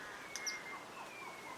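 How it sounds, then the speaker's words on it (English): A Madagascar pygmy kingfisher gives a couple of faint, high, thin peeping notes in a quiet rainforest in Ranomafana, Madagascar, heard over a soft steady hiss of insects and ambience. "A flash of orange and a high-pitched peeping call alerts us to a special bird"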